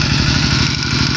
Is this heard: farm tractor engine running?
yes